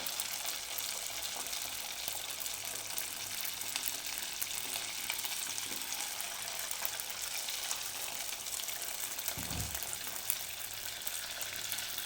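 Fasting-style dahi vadas deep-fry one by one in oil kept at medium heat, giving a soft, even, continuous bubbling hiss throughout, fairly faint and steady.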